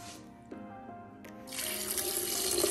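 Water pours from a tap into a sink or container to make almond milk in a nut milk machine, a steady rushing stream that starts in the middle and grows fuller and louder, close by with no talking.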